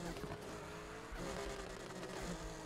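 A car's nitro boost fires in the racing game Need for Speed Heat during an off-road run, a loud, dense engine roar that surges near the one-second mark and then holds steady and close for the rest of the stretch, with no voices.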